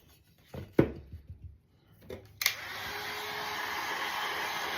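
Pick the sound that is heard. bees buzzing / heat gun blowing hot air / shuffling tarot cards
heat gun blowing hot air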